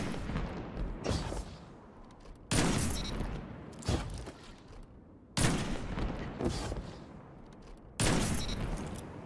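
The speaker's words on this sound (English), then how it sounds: "Here's footage before the nerf of me sniping with Stompees" Heavy sniper gunshots from the Stompees weapon in the Destiny video game, four loud booming reports spaced a couple of seconds apart, each with a long rumbling tail.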